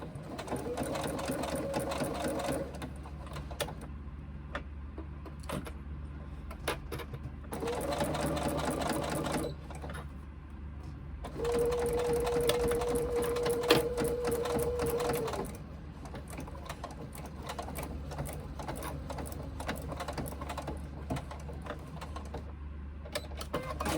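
A sewing machine stitches a seam on a fabric sling in steady motor bursts, running loud and close, pausing briefly around five and ten seconds before resuming with a rising whir.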